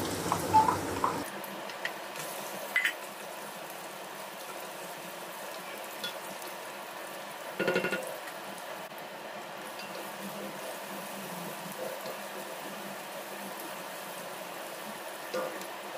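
Cumin seeds hit hot cooking oil in a pan, giving a faint, steady sizzle with a few small pops and crackles over a quiet kitchen background.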